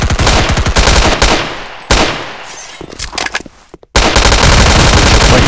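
Counter-Strike 1.6 automatic rifle fire in loud, close, rapid bursts, then a short pause with a few scattered single shots before another long sustained burst resumes.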